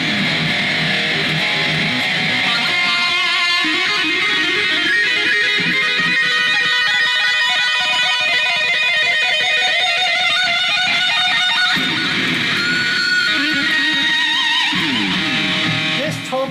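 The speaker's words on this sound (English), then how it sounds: "what you're hearing is from the speakers coming out of the Boss eBand JS-10" Driven electric guitar with a Queensryche-style tone patch plays through the speakers of a Boss eBand JS-10, thick and saturated with sustained chords and lead lines that change character partway through, loud and continuous with no talking over it.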